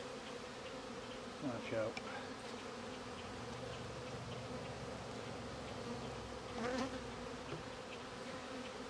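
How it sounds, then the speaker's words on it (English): A dense swarm of honey bees fills the air around a hive crowded with queen cells, a steady close buzzing throughout, with a short spoken warning partway through. "There's a ton of bees in here. I am currently surrounded by a lot of bees"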